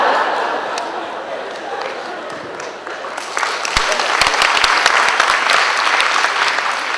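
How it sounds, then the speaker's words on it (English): Audience applause in a hall at a budget and tax talk: steady clapping that swells louder after a few seconds, with a few sharp individual claps standing out near the end. "I think that round of applause shows that Yee Loong is a pretty big thinker"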